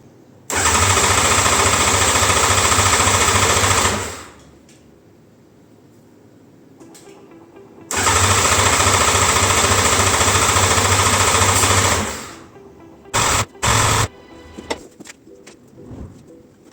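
Motorcycle engine fitted in a homemade car, roaring loud and close for two long stretches of several seconds each, then a few short bursts of throttle, with no talking.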